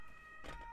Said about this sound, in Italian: Con l'ambulanza che preannuncia